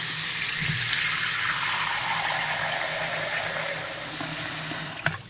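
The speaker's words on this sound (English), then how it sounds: "Now that we have the sink filled" Tap water gushes steadily into a sink for several seconds, a loud, continuous rushing that softens slightly as the basin fills, then ends with a brief knock.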